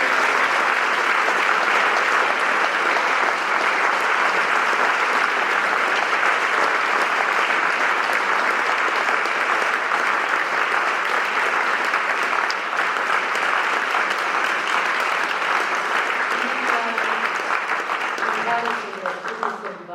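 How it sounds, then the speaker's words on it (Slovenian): A large audience at a school centenary ceremony claps steadily and loudly for a long stretch, the applause thinning out near the end. "Ste za aplavz?"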